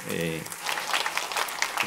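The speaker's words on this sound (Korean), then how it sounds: "박수 한번 우리 격려로" A church congregation bursts into applause during a Pentecost Sunday worship service, a dense, even crackle of many hands that follows a brief moment of voice and sustained tone.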